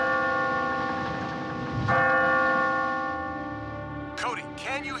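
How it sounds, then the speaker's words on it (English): An old settler's bell in an animated cartoon rings with a sustained, resonant metallic tone that swells briefly, and a voice speaks over it near the end. "we found the settler's bell. Can you hear it?"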